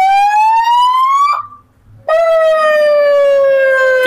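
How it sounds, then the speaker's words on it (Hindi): A loud electronic siren from a remote-controlled unit fitted to a Hero Splendor motorcycle wails in long sustained tones, cutting off briefly in the middle before resuming, close and piercing with no voices. "अब ये सायरन,"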